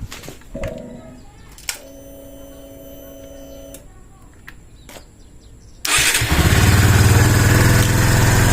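A Kawasaki Barako motorcycle engine cranks, catches and settles into a loud, steady idle after several seconds of quieter mechanical clicks and faint talk.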